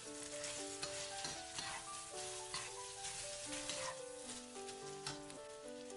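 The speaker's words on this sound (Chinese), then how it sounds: "把刚才煸好的干辣椒放进锅里，还有刚才切好的姜和蒜丝都倒进锅里，一起翻炒" Dried chili, ginger and garlic shreds stir-fried together in a wok for dry-fried shredded pork, a steady crackling sizzle broken by repeated scraping stirs, quiet and close with no talking.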